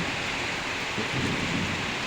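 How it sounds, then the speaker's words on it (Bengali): Heavy rain roars steadily on a village home with banana trees, a low rumble swelling beneath it, dense and continuous throughout. "মুষলধারায় বৃষ্টি হচ্ছে।"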